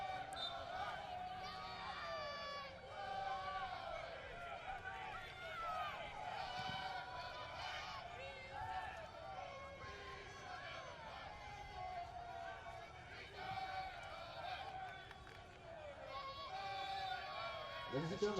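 A stadium crowd at an Orange County Blues FC versus Seattle Sounders FC 2 soccer match keeps up loud, sustained cheering and chanting, a steady wall of voices with rising swells for the whole stretch.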